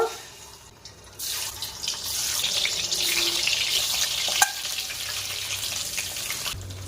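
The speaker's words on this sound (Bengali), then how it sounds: "তেল গরম হয়ে গেছে। একটা একটা ডিম দেব।" Steady hissing sizzle of eggs frying one at a time in hot oil in a kadai, loud and continuous, with a brief clink partway through and no talking.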